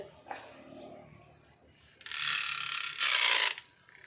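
A small electric fan whirs up into a loud, buzzing rattle in two bursts after a quieter stretch of faint clicks.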